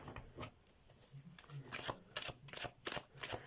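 Tarot cards being shuffled by hand, quiet rhythmic riffles and flicks repeating close up at low volume, with no speech over them.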